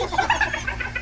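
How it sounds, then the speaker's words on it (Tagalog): A chicken clucks in quick, uneven bursts, close and fairly clear, over a low background hum. No talk is heard. "Ikaw po yung may manok dyan, alaga?"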